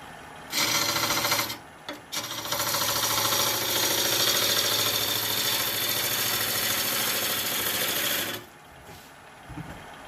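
A wood lathe spinning a green-wood bowl blank being roughed into a calabash shape gives a loud, steady motor whine and hum that runs for about eight seconds, briefly stopping near the start.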